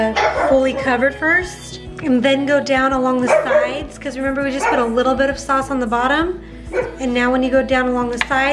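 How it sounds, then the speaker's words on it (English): A pet dog barks repeatedly indoors after a Ring doorbell alert, its sharp barks mixed under someone talking continuously in a home kitchen during meal prep. "Every time Ring goes off, he lets us know. He's like our little guard dog."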